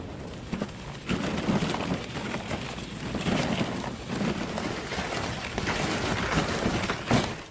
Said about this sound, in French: On entend la glace craquer par endroits.